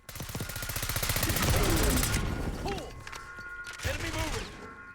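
Rapid automatic gunfire in Call of Duty: Black Ops 6, a fast close rattle of shots that fades out. Short chirping mechanical sounds and game noise follow.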